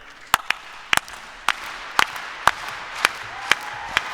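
A small group claps a slow, steady rhythm in place of music during a live tabletop role-playing game show, with about nine sharp, evenly spaced claps at roughly half-second intervals over a quiet room.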